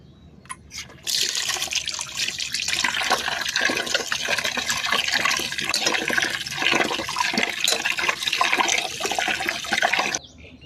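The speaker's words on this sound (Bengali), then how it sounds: "এখন ধুয়ে পরিষ্কার করে নিব।" Cut rohu fish pieces are washed under running water in a kitchen, a loud, continuous splashing gush that starts after a second and runs steadily before stopping abruptly near the end.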